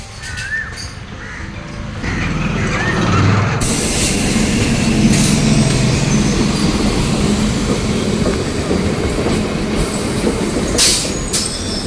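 A train at Kolkata railway station rumbles loudly and steadily, with rail and carriage noise, wheel squeals and crows cawing nearby; no talk.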